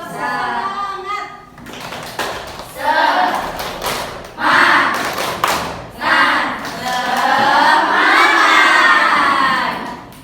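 A classroom of students doing a rhythmic 'tepuk semangat' chant-and-clap: bursts of children's voices shouting together with clapping and thumps, loud and crowded throughout.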